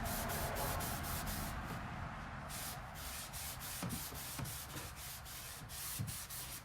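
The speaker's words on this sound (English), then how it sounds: "taking my steel wool, and I'm just going to work it down into the paint" 0000 steel wool rubs steadily over painted furniture, a close, continuous coarse scrubbing hiss with a few faint taps, no voices.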